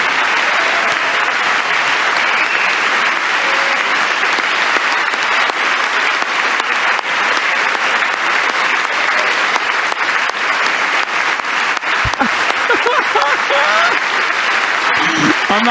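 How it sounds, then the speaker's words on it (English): Sustained applause from a large audience in the chamber of the US Congress during a presidential joint address, steady dense clapping filling the whole stretch with voices faintly mixed in. "She's clapping."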